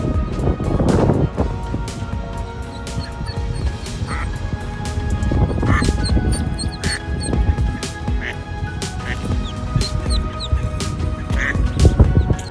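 Ducklings following their mother near a street curb, with high, repeated peeping calls scattered over a steady background of traffic and outdoor noise, plus some duck quacking.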